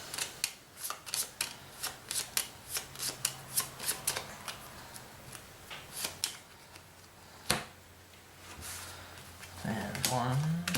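Cards being shuffled by hand during a tabletop card game playthrough, a rapid run of crisp riffling flicks close to the microphone, followed by quieter handling and a voice near the end.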